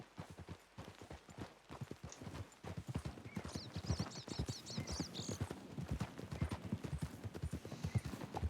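Steady clip-clop of hooves from several horses in Red Dead Redemption, a brisk repeating rhythm that fills the clip, with a brief whinny midway and no talking.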